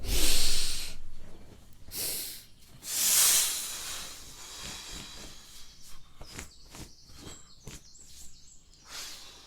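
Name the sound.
person breathing out deeply, emptying the lungs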